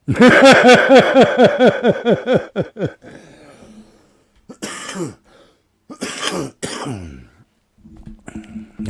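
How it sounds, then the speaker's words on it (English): A long run of rapid, harsh coughs for about three seconds, then quieter breathy coughs and throat sounds in short bursts. "Laughing makes me cough."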